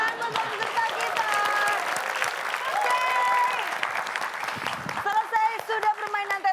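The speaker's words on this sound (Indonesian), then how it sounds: "Lagi tepuk tangan buat peserta kita." Studio audience applause for contestants on an Indonesian crossword-puzzle game show, a steady, full wash of clapping lasting several seconds at moderate loudness, thinning into scattered claps near the end.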